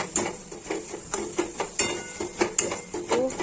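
Coriander powder spice mix being stirred in a cooking pan for a Bengali chicken curry, with a spoon scraping and clinking against the pan in a steady series of close, moderate strokes.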